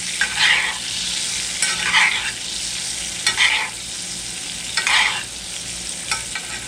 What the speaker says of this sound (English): Just tip it up and start basting it on top.